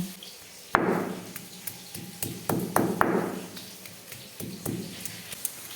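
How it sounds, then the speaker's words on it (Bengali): Ginger, two green chillies and cumin ground together on a grinding stone, heard as irregular sharp knocks and scrapes with a few bright ringing taps, fairly close and spaced unevenly. "বেটে নেব আদা, দুটো কাঁচা লঙ্কা, আর নিয়ে নেব জিরে। তিনটাকে একসঙ্গে বেটে নেব।"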